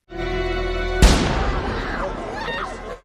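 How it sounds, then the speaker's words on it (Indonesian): Shotgun fired as a warning shot in an action film: one sharp, loud blast bursts in about a third of the way through, cutting across a sustained musical score and trailing off into rumbling echo under the music. "Enzo datang dengan menembakkan shotgun sebagai tembakan peringatan"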